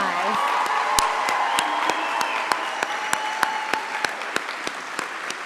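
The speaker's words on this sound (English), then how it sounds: "one final round of applause for the nursing class of 2025" A crowd applauds the nursing class of 2025 at a nurses pinning ceremony, dense and sustained clapping with some cheering in a large room, loud and continuous throughout.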